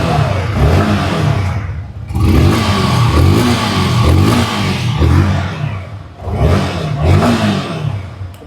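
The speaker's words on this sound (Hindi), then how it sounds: "तो गाड़ी करते हैं सबसे पहले स्टार्ट करके मैं आपको इसका एग्जॉस्ट साउंड करवाता हूँ" A Yamaha R15 motorcycle's exhaust revs loudly and close by, in repeated throttle blips with brief dips between surges, with no talking over it.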